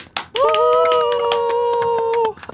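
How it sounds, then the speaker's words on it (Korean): A burst of rapid, sharp hand clapping from a few people during a horror game session, with an excited voice calling out over the clapping and loud overlapping cheers. "우리한테 박수."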